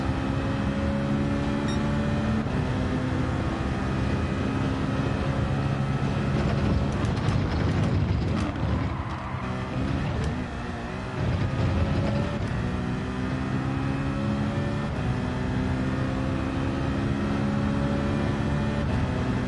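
A steady, loud race car engine drone in the video game Gran Turismo runs throughout with shifting harmonic tones, dipping briefly midway as if shifting gear, then resuming its continuous roar.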